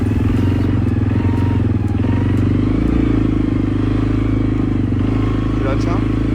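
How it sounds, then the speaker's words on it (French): A quad bike rumbles loudly and steadily nearby on an evening ride, its engine drone constant with faint clatter, and a voice speaks over it. "c'est parti pour la balade en quad du soir"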